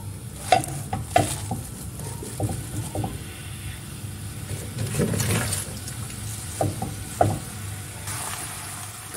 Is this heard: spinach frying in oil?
yes